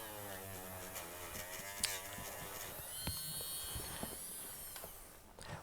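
A Foredom portable micromotor polishes with a silicone wheel, giving a steady close electric whine with faint scratchy contact noise that shifts pitch slightly as the load changes.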